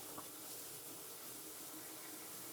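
Steady hissing rush of water pouring from a tap, continuous and fairly faint, with no voices.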